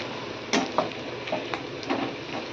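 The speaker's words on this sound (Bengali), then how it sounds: "এখানে আমি কালো জিরে দিয়ে দিলাম, কিছুটা কালো জিরে ফোড়ন দিলাম।" Nigella seeds tempering in hot oil, a steady crackling sizzle with a few sharp pops and spoon clinks as the pan is stirred, close and fairly quiet with no talking.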